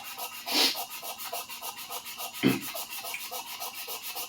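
Rust is rubbed off a Japanese carbon steel sujihiki blade in soft, steady back-and-forth sanding strokes, close and quiet, with a couple of brief louder scuffs.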